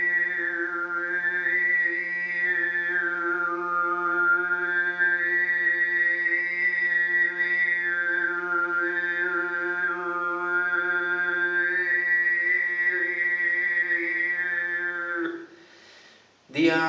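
Tuvan harmonic throat singing: a steady low drone under a whistling overtone melody that glides up and down, held close and loud for about fifteen seconds before breaking off into a brief breathy noise.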